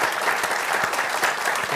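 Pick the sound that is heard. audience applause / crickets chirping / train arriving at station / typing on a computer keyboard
audience applause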